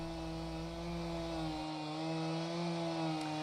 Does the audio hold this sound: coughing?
no